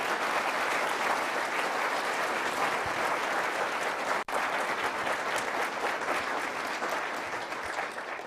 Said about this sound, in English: Let's give this group a great round of applause.